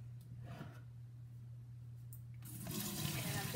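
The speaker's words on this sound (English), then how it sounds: "gonna pour the soup into the colander" Chicken soup poured from a heavy pot into a colander set on another pot, a faint rushing splash of liquid that swells over the last second and keeps going with no talking.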